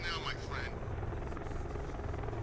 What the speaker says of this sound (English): Yeah, helicopters...